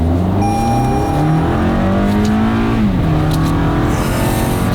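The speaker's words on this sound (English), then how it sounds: "So we're gonna do a rental car pass here." A rental car accelerates hard on a quarter-mile drag strip, its engine climbing steadily in pitch through the gears with a brief dip at a shift, loud and close throughout.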